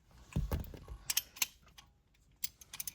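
A 3/4 inch ratchet is used while installing a classic GM Pontiac turn signal switch, giving a few close clicking, clattering mechanical bursts with short quiet gaps between them.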